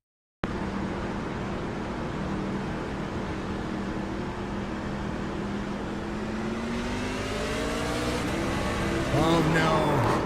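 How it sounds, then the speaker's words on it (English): A racing truck engine at a New Hampshire speedway race roars steadily, then its pitch wavers and breaks up into rough, sputtering bursts near the end as the engine blows, with crowd and track noise underneath. "Blown engine, that's a clutch shift or money shift malfunction on the hardware."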